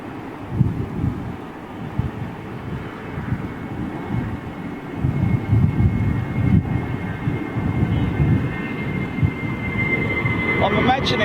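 An Aeroflot Boeing 777 airliner at London Heathrow Airport roars as a steady broad jet rumble that builds slightly over time, heard at a distance with wind buffeting and a person talking over it.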